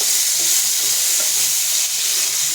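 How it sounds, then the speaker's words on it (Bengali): Brinjal coated in spices and oil fries in a pan, a loud, close, hissing sizzle with brief stirring scrapes throughout. "বেগুনটা খালি আমি 1 বার 2 বার এখন নাড়াবো।"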